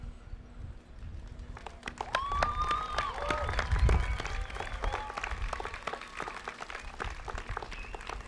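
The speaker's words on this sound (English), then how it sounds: "give a big round of applause to all the families, the faculty, the friends, the staff, everybody who got you to this day" At a 2024 Schmid College degree ceremony, the audience gives a long round of applause with crisp, sustained clapping. Whoops and whistles rise above it, and the cheering swells in the middle before holding steady.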